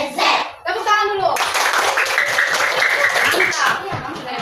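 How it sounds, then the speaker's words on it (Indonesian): Children burst into quick, close clapping after some brief laughter and a voice at the start. The clapping continues loudly and steadily, mixed with chatter. "Tepuk tangan dulu."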